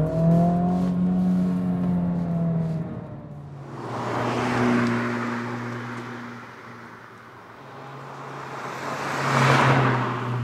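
A 2023 Honda Civic Type R engine with triple exhaust, heard as a rising, progressive rev with a clear tonal whine, then swelling whooshing passes as the car accelerates nearby, loud and alone.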